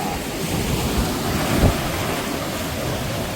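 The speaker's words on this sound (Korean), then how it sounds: "파도가 멋지게 치고 있습니다." Steady roar of ocean surf breaking nearby on the shore at Ayajin, Goseong, Gangwon, South Korea, with gusty wind buffeting the microphone and no voices.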